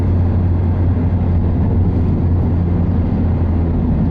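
A 2015–2017 Subaru WRX with a REMARK muffler delete exhaust drones with a deep, steady engine rumble heard from inside the car, loud and continuous as it downshifts, with no talking.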